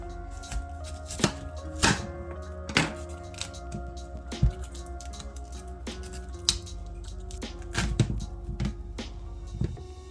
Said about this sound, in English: The obvious first step is to chop up some cauliflower